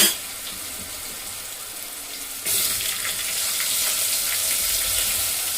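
Ginger garlic paste and onion go into hot oil for a soybean dal tadka, setting off a steady broadband sizzle that jumps louder midway as the onion lands and keeps frying close by.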